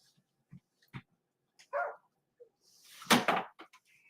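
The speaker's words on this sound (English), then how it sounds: "Damn dogs." Dogs bark in short separate bursts, a few single woofs early on and then a louder cluster of barks and yips later, heard fairly close in an otherwise quiet room.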